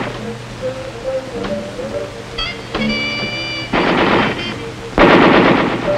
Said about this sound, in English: We spent a lot of time on the machine gun range with the M60.